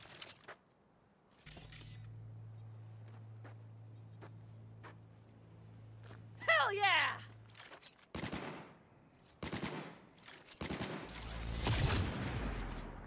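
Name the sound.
gunfire from a gun in the video game Cyberpunk 2077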